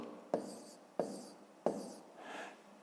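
Pen strokes on paper while working a fifth-grade maths exercise: three short, quiet scratching strokes at even intervals, followed by a softer longer rub, close and alone.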